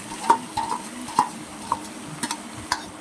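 A spoon scrapes and stirs banana flower in a wok in short irregular strokes, with a faint sizzle of frying underneath.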